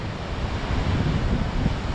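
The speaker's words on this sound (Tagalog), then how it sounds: "grabe ang alon ngayon" Heavy sea waves at Lingayen Cove, Jomalig, surge and crash in a continuous roar, mixed with gusty wind buffeting the microphone.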